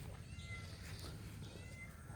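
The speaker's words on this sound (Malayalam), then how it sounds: "കുറേ പൂച്ചകളുണ്ട്." A cat meows softly a few times in a rural garden compound, faint and somewhat distant against low background noise.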